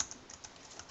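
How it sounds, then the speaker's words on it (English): Quick light keystrokes on a Bluetooth keyboard paired with a Samsung Galaxy Note 2, a brief run of soft, close clicks with no voices. "I'm going to make a typing mistake on purpose"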